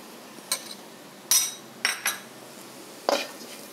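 Spiced prawn fry being stirred in a pan, with a spoon scraping and clinking against the metal in four or five short, sharp bursts separated by quiet gaps. The clinks are fairly close and there is no talking.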